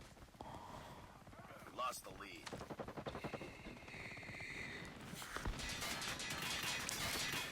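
Gunshots in a shooter video game: several sharp shots and a fast burst of rapid fire, loud and close, with other game sounds between them and someone talking over parts of it.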